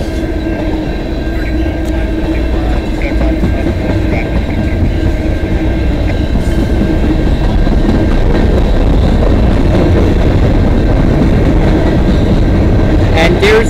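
A CN freight train, M397, rolls past trackside on the Dundas Subdivision near London, Ontario, its steady rumble and rail-car clatter continuous and fairly loud throughout.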